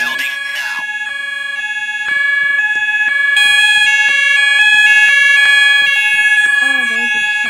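A school fire alarm sounds during a test, a loud electronic tone pattern repeating in steady rising and falling steps that fill the whole clip without a break.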